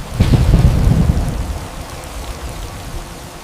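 A village thunderstorm with heavy rain: a loud rumble of thunder at the start fades into a steady, dense wash of rain, with no talking.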